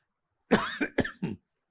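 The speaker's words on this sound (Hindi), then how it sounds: "बुढ़ापे की वजह से अब खांसी भी आने लगी है" A short, harsh coughing fit from an elderly person: one strong cough followed by three quicker, rasping coughs, close and loud, with silence before and after.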